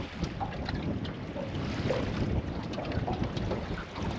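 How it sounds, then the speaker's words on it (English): Steady, loud wind roaring across open water, a constant rushing blow buffeting the microphone with no talk. "it's sure windy down here on this lake"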